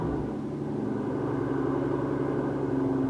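A 2020 Mercedes S65 AMG V12 biturbo engine starts and idles with a low, steady rumble and a slight rising hum, close and continuous.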